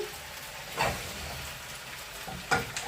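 Young potatoes fry in a pan with a soft, steady sizzle, with two brief clanks of utensils against the pan and no talking.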